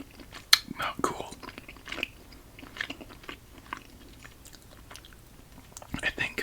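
Gushers fruit snack candy being chewed close to the mic, wet squishy bites and crunches in an irregular rhythm, with brief speech in places.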